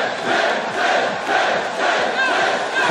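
A video-game wrestling arena crowd from WWE 2K18 roars and cheers steadily throughout, a dense, loud, continuous wall of voices with swelling peaks and no talk over it.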